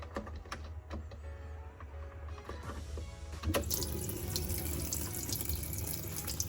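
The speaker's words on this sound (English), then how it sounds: "and we see how the water does come out." Water draining from the bottom of a countertop ice maker into a sink, a steady running splash that grows louder and fuller partway through and continues without talk.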